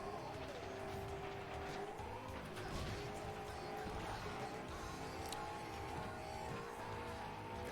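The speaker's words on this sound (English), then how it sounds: "It's like the same V8 noise but slightly lower pitch or slightly higher pitch." A loud V8 derby car engine in the racing game FlatOut: Ultimate Carnage drones continuously with shifting revs and tire noise, steady throughout.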